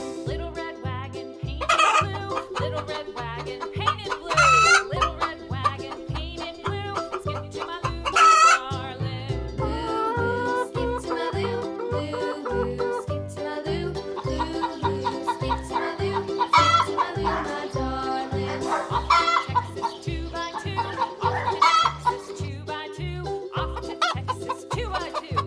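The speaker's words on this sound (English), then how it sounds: "Hen." A farm hen clucks repeatedly, with a rooster crowing now and then, all heard over a steady, rhythmic children's music backing.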